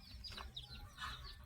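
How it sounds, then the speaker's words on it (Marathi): A rooster on a dairy and poultry farm gives a few soft clucks and short throaty calls, faint and fairly near, with quiet farm ambience behind and no talking. "हा बघा कोंबडा, हा कोंबडा फारच सुंदर आहे"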